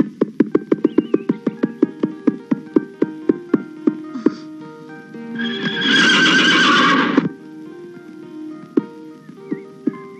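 A horse neighs loudly and close by: a long, shrill whinny with rapid pulsing, preceded by a rhythmic run of snorting beats.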